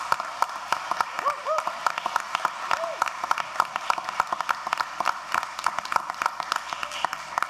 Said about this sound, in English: So clap it up for this group of students.